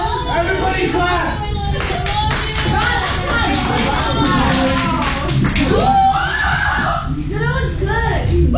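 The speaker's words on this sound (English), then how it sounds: "Everybody clap." A group of people claps in a quick, fairly close run of sharp hand claps lasting a few seconds, with lively chatter and excited voices going on over and around it.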